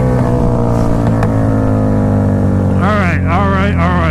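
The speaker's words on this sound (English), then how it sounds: "let's try a good second gear wheelie here on the Super Duke" A KTM Super Duke motorcycle engine drones hard through a second gear wheelie, loud and steady, then rising and falling in pitch near the end, with a voice talking over it.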